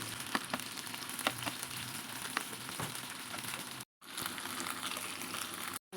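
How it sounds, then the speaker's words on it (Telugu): Chicken sizzles steadily in a pan over a low flame, a close, continuous crackle and hiss with occasional louder pops, briefly cut to silence twice. "కొద్దిగా సిమ్లోనే పెట్టి ఫ్రై చేద్దాం."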